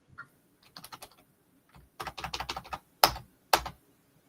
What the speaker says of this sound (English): I'm sorry, who was typing?